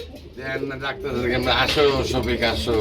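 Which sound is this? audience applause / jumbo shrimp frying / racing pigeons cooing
racing pigeons cooing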